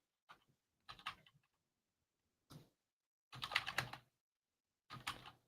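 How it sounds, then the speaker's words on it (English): Quiet bursts of typing on a computer keyboard, five short clusters of clicky keystrokes separated by silent gaps, close and alone. "if I can get my keyboard to work again"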